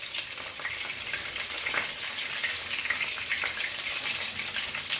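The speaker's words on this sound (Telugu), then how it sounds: "చూసారు కదా అలాగే ఫ్రై అవ్వాలి." Chicken fries in hot oil in a village kitchen, giving a close, steady sizzle with crackling and popping throughout and no voices.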